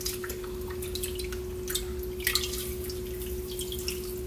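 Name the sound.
maesaengi seaweed being swished in water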